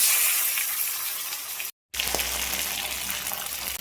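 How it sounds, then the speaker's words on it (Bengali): Fish heads frying in hot oil, a loud steady sizzle and hiss broken by a short silent cut partway through, then continuing with a low hum underneath. "দেখো মাছের মাথাগুলো এবার ভেজে নেব"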